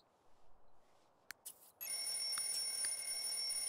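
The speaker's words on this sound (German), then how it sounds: "da klingelt anscheinend gerade mein Wecker" An alarm clock in The Sims 3 video game starts ringing partway through, a steady high electronic tone that follows a few soft clicks, moderately quiet.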